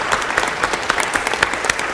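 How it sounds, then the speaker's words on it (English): Applause fills a city council chamber after the Pledge of Allegiance, a dense run of individual hand claps from a modest crowd, close and steady with no speech over it. "Let's give her a round of applause."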